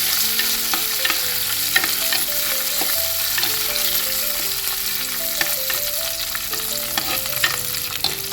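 Garlic, curry leaves and chili fry in oil in a pan, a loud constant sizzle with frequent clicks and scrapes of stirring, and a faint melody plays underneath.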